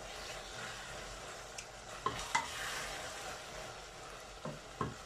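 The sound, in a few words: onion sambal frying and being stirred in a pan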